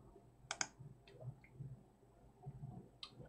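Computer mouse clicking during software cleanup: a quick pair of sharp clicks near the start and another single click near the end, close and quiet over a low room hum.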